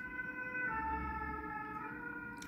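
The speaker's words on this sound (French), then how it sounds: "la sirène est passée" An emergency vehicle siren sounds on a street as it goes by, with a steady, sustained wailing tone that holds loud through the whole stretch. No voices are heard.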